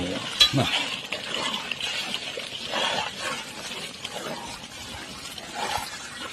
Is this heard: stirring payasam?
yes